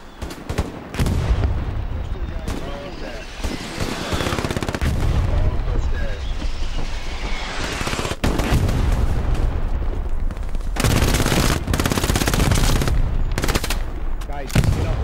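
Gunfire in the Stalingrad battle video game: loud, rapid machine-gun bursts and rifle shots with booming impacts and explosions, fire nearly continuous with brief pauses, close and dense, likely with faint voices mixed underneath.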